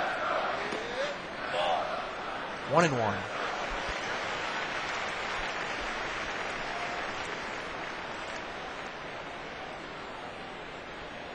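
Stadium crowd cheering and murmuring at a World Series baseball game, a steady broad roar that swells slightly and holds under a commentator's voice, with a brief whistle near the start.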